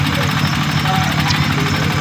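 A pulley winch engine hauls fishermen's catch up on the Aceh coast, a steady loud mechanical drone with a low throbbing pulse running throughout, with no breaks or pauses.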